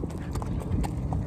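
Hooves of a ridden 3-year-old Mustang mare, a quick rhythmic clip-clop of several distinct footfalls on firm ground, close and clear.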